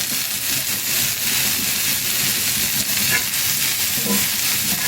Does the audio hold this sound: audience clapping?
no